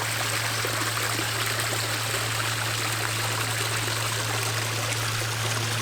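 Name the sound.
backyard pond waterfall flowing water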